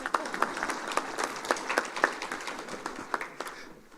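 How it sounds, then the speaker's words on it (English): An audience claps at a labour activation programme project launch, a moderately distant crowd applause with sharp individual claps standing out, tapering off toward the end. "this is why we clap hands"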